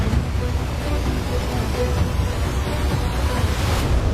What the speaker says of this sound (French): La puissance des vagues est incroyable.